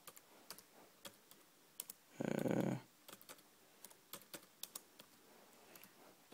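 Someone types on a small Asus Eee PC netbook keyboard, a quiet, irregular run of crisp individual key clicks with short pauses, interrupted midway by a brief louder buzzing burst.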